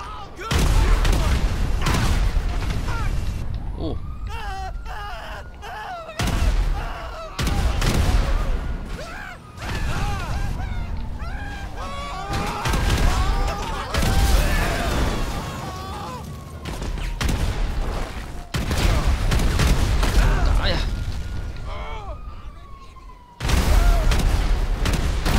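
Explosions and gunfire in GTA5 with a superhero versus alien-invasion mod: repeated loud booms and bursts of shooting, broken by short gaps, with scattered game voices and effects in between.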